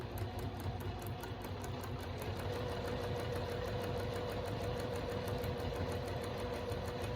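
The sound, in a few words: sewing machine stitching a quarter-inch seam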